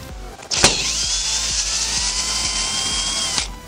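Power drill driving tek screws into a box trailer being converted for a dirt bike, one steady high whine lasting about three seconds from start to stop, close and loud, with faint clicks underneath.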